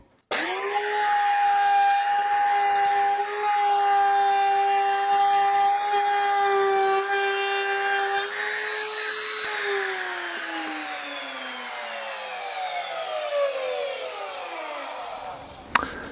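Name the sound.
wood router making full depth cut in steering wheel wood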